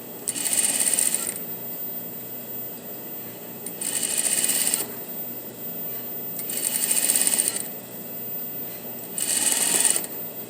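Sewing machine stitching along the edge of a puff sleeve in short bursts, four rapid whirring runs separated by pauses while the fabric is adjusted, heard up close.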